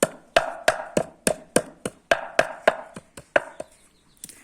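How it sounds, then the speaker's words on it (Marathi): Charcoal being crushed into smaller pieces, a run of about a dozen sharp, evenly spaced knocks close by, each ringing off briefly, with no talk. "कोळसा थोडा बारीक करून घ्यायचा आहे।"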